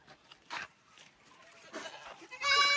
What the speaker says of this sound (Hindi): यहाँ पे बकरी का दूध निकाला जा रहा है।